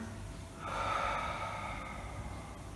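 Breath during a Pilates spine stretch: a soft, airy exhale swells from about half a second and lasts roughly a second, then tapers into quieter breathing over low room noise.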